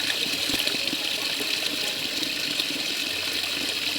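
Powerful water surging back up and gushing nonstop, a dense close roar with bubbling churn throughout and no talking.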